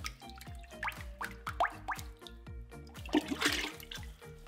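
Ceramic pot dipped and swished in a bucket of glaze, giving soft close sloshing and splashing liquid sounds, heard alone at low volume.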